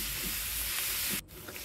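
Onion frying in oil over a clay stove, a steady close sizzle and hiss with a brief stir, ending in a quieter, lighter crackle.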